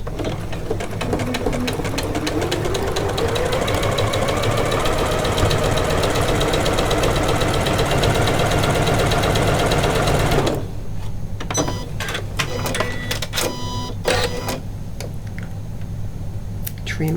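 A Janome sewing machine stitches pintucks over cord using a pintucking cord guide, running steadily with a loud, fast, even mechanical whir for about ten seconds. It then stops, leaving scattered clicks and handling noises.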